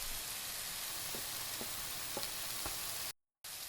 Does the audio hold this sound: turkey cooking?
yes